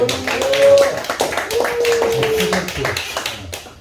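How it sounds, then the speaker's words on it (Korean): Audience clapping at a church gathering of a Christian ministers' association, scattered hand claps and taps under a loud voice speaking over them, with a sustained tone sliding through the middle. "박수 한번 박수"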